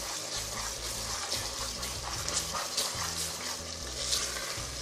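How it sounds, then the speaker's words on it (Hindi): A spice mix with kasuri methi and salt sizzles and fries in a pan, stirred steadily, with a dense continuous crackle over a low hum for the whole stretch. "इन सब को मिलाकर इसे अच्छी तरीके से भूनना है।"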